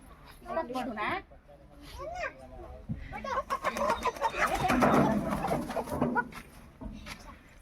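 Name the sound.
chicken clucking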